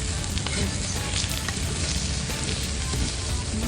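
An egg fries and sizzles steadily in a pan at a campsite during a solo camping breakfast of homemade egg muffins, giving a close, continuous crackle with faint stirring and no talk.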